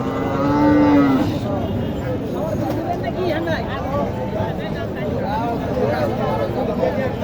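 A cow or calf lets out a loud, close moo at a busy village cattle market, then the crowd's chatter and talking continue over a constant background murmur.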